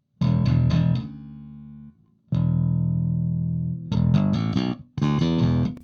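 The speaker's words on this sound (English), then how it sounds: "I can choose a reverb. If I turn that on, I can choose from a drop down the different types." An electric guitar runs through a Two Notes Cab M cab simulator with reverb switched on, playing short bursts of chords and two long sustained notes whose tails ring out and fade, close and fairly loud with no talking.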